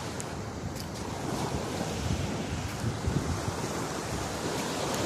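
Ocean surf breaking continuously along a shore, a broad steady wash of waves with heavy wind buffeting the microphone, no voices present.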